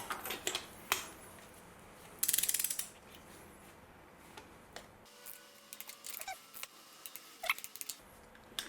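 A hand ratchet checks the tightness of spark plugs on a Honda Jazz engine, giving short bursts of quick clicking pawl ticks with scattered clicks and pauses between, close and fairly quiet.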